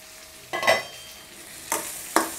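Mango pickle mix with turmeric sautéing in oil over medium heat: soft, scraping stirs in three distinct bursts over a faint, steady background hiss, with no talking.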